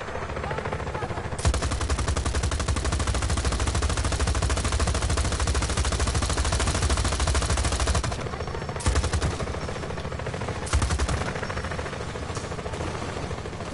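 Sustained rapid machine gun fire in the Just Cause 4 video game, a dense continuous rattle of loud bursts for several seconds, briefly pausing twice before resuming, with no talking.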